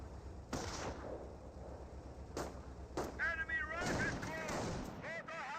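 Gunfire from the wartime strategy game Company of Heroes, with sharp shots at intervals among the battle noise and brief synthetic voice chatter.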